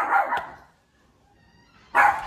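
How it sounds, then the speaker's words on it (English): Dog barking nearby in a home, two loud sharp bursts separated by about a second and a half of near quiet. "He can bark. He gonna bark until he sees his dead."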